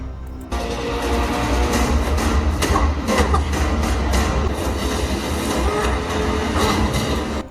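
A moving train roars loudly and continuously, its wheels clattering and rumbling over the rails, during a fight on the roof of the carriages, with no voices.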